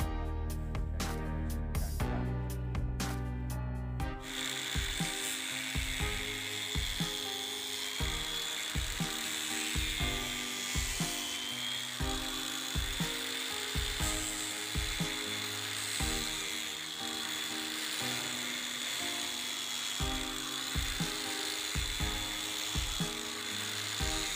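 A dimmer-controlled angle grinder shapes a knife blade, its sharp pulsed bursts giving way to a steady loud whine with rhythmic dips as the blade is worked against it, close and continuous.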